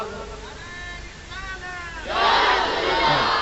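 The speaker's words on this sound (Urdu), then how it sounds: "میں نعرہ رسالت لگا رہا" A crowd at a religious gathering roars the Naara-e-Risalat slogan. Solo voices come first, then a loud burst of massed shouting takes over near the end.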